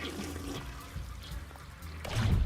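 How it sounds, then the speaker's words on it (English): Toilet flush in Psychonauts 2, a watery rushing swirl that swells louder toward the end. "that's literally just the flush toilet button."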